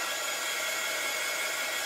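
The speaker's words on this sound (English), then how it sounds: "if I hit them with the dryer, it's gonna bubble up" A handheld hair dryer blows steadily at close range over decoupaged seashells, a loud, even rushing hiss with no pauses and no voices.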